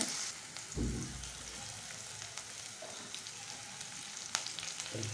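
Curry leaves crackle and sizzle in hot oil while cooking a mushroom gravy, a steady close hiss broken by a louder burst of spitting about a second in and a sharp pop near the end.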